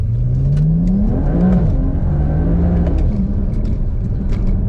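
A BMW E92 335i with the N54 engine accelerates hard from a launch, the engine note rising through the revs, then a shift, then climbing again, loud and close from inside the car.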